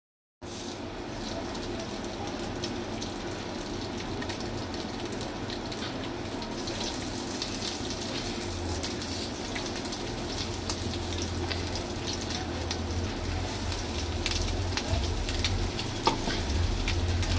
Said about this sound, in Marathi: म्हणजे आपल्याला बांगडा मच्छी मस्त फ्राय करता येईल